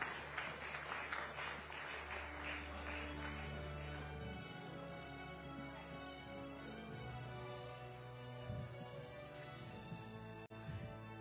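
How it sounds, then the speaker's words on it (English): Audience applause fills a large live awards-ceremony hall, a dense, steady wash of clapping from a big crowd, with background music tones sustained underneath throughout. "A huge round of applause, ladies and gentlemen"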